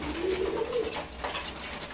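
A master pair of racing pigeons coo in a loft, a low warbling call swelling near the start and then a quieter, continuous murmur close by.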